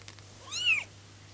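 A pet cat gives a single clear meow, rising and then falling, close by in a quiet room with a faint steady hum underneath and no one talking.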